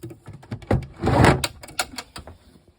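Storage drawers by the stern steps of a widebeam narrowboat slide open and shut with wooden knocks and a brief rolling scrape, close and clear, no talking.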